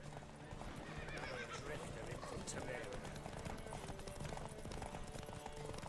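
Hooves clatter in a fast galloping rhythm during a horse race in The Witcher 3 on PC, amid a busy, noisy mix, with a horse whinnying over the pounding, and voices faintly in the background.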